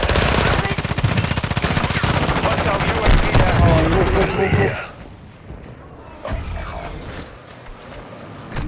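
Rapid automatic gunfire in a video game rattles loud and close as a fast steady stream of shots. It cuts off abruptly, and a few scattered thuds follow in quieter surroundings.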